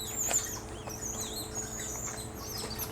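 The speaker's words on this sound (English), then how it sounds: "The monkeys are currently having romance, and that's that noise that you are hearing in the background." Monkeys call out while mating in a zoo enclosure at Gulf Breeze Zoo: repeated high, thin chirps and squeals sound from a moderate distance over steady outdoor ambience.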